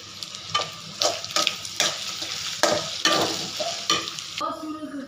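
Vegetables and egg stir-fried for Happy Maa fried rice, with a steady close sizzle broken by repeated scraping spatula strokes against the pan, about one every half second.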